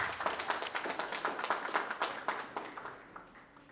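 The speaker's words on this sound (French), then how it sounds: "On l'applaudit à nouveau" A graduation audience claps, a quick run of distinct, fairly close hand claps that fade gradually toward the end.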